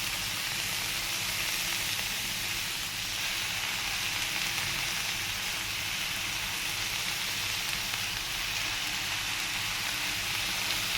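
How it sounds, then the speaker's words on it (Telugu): Leafy greens hit hot oil in a pan for an Indian aku kura karam dish, giving a steady, loud, hissing sizzle that runs unbroken from start to finish with no talking. "ఇప్పుడు నేను మిగిలింది ఆకుకూర మొత్తం కూడా కంప్లీట్గా వేసేస్తున్నాను"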